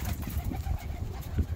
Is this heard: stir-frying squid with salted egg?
no